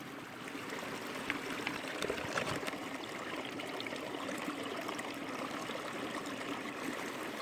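Water trickles and splashes steadily as it is filtered into a Platypus bottle on a backpacking trip, a soft, continuous, close-up flow with no talking.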